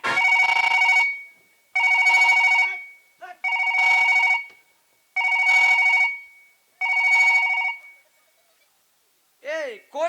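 A telephone bell rings in five long bursts with short pauses between them, loud and close, followed by a brief chirpy electronic tone.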